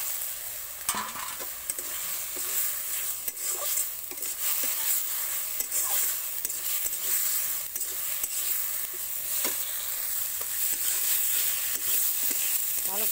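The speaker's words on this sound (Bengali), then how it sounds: "এর মধ্যে ভেজে রাখা আলুটা দিয়ে দিচ্ছি।" Fried potatoes tossed into cooking masala for a river morola fish curry, sizzling quietly and steadily in the pan with repeated light scrapes and knocks of a spoon throughout.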